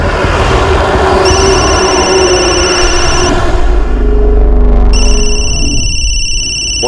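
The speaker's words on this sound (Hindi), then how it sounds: "फोन उठाओ संजय, शायद उन्हीं का हो सकता है।" A telephone rings loudly and insistently in a tense dramatic scene, its electronic tone pulsing in steady repeated bursts over a dense music-and-effects bed, with no one speaking.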